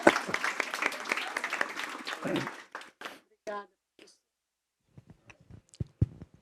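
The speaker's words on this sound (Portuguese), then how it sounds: "Pode aplaudir, pode aplaudir." An audience at an academic curriculum conference breaks into dense clapping mixed with voices, then the applause thins into a few scattered claps before fading to near silence.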